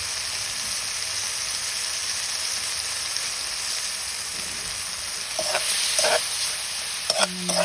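A pot of monggo with pork is stirred, giving continuous close frying sizzle and bubbling, with louder scraping strokes of the spoon near the end; no talking.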